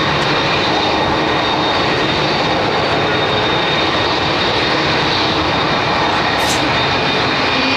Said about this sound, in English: Iberia bringing out another little jet.